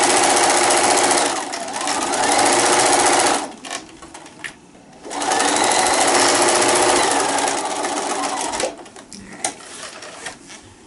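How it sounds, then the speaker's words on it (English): A sewing machine runs a quick zigzag stitch along the raw edges of a fabric gift bag, sewing in loud steady bursts, then briefly stopping and restarting with a few short run-ups at the end. "you can just do a quick zigzag with your sewing machine, which is what I'm going to do"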